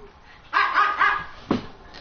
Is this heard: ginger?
no